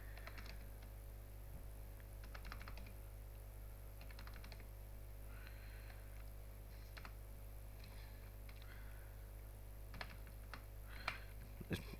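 Values being typed into an Excel spreadsheet on a computer keyboard: scattered clusters of soft key clicks and taps over a steady low electrical hum, fairly quiet and close, with no voices.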